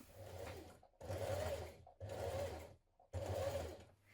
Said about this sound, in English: We go to the right side, stitch this seam down with top stitching